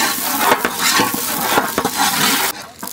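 Peeled garlic and shallots frying in a pan with a spoon stirring, steady sizzle with scraping strokes, stopping abruptly near the end.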